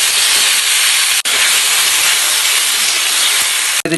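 Pasta hits a hot pan of fried chopped onion and chilli for a chicken pasta dish, giving a loud, steady hiss of sizzling and steam that runs almost unbroken, with two brief dropouts.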